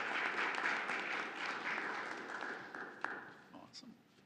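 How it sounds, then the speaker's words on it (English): Applause from the audience at a city council meeting in Agoura Hills after a Cub Scout ceremony, a broad wash of clapping that thins out toward the end, with some voices mixed in. "Big round of applause."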